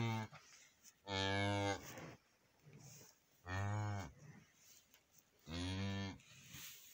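An animal howls at night on May 1: three long, loud, drawn-out tonal calls, each lasting about a second, separated by quiet pauses with faint background noise.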